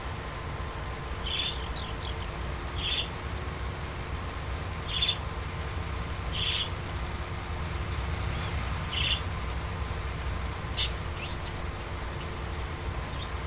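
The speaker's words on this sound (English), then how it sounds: "Oh, bird!" Birds on a farm field give short, sharp chirps repeated every second or two, moderately distant over a steady low outdoor rumble, with no one talking.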